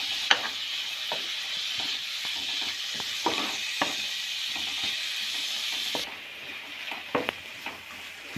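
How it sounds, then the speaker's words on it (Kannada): Bitter gourd frying in a pan over a medium gas flame, a continuous hiss of sizzling oil broken by sharp clicks and scrapes of stirring, close and steady, with no talking. "ಪಾನಿಗೆ ಹಾಗಲಕಾಯಿ ಹಾಕಿ ಗ್ಯಾಸ್ ಫ್ಲೇಮ್ ಮೀಡಿಯಮ್ ಆಗಿ ಇಟ್ಕೊಂಡು ನೀಟಾಗಿ ಹುರ್ಕೊಳ್ಳಿ"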